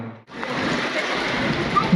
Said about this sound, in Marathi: जोराचा पाऊस सुरू झाला